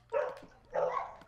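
A dog in a Minecraft Hunger Games match gives two short barks, moderately loud and close, about half a second apart, with no speech over them.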